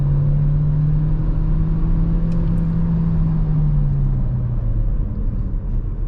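A Renault Arkana 2022 e-Tech 143 HP hybrid pulls away at full throttle, giving a steady, loud, droning engine hum with a slowly rising then falling pitch, heard continuously from inside the cabin.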